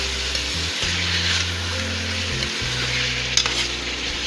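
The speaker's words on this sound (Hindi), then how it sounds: "चिकन की भुनाई हो जाएगी" Chicken frying in a pan for an aloo chicken fry, a steady close sizzle with a low hum underneath and a brief clink of utensils near the end.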